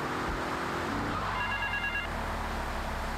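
A telephone rings in the video game Grand Theft Auto 3, heard as a brief, faint electronic ring pattern lasting under a second, set within constant, steady game background noise.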